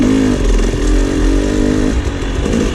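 KTM 300 XC two-stroke dirt bike engine revs loud and close at NATRA in West Point, Tennessee, a raspy buzzing drone that surges and dips slightly as the throttle is worked, with no voices.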